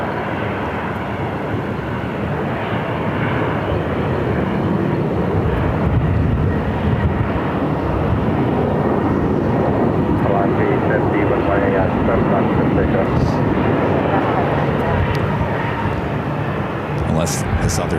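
An airliner taxis into gate D3 at Phoenix Sky Harbor, its engines a steady, loud broadband roar close by that holds throughout, with voices speaking over it.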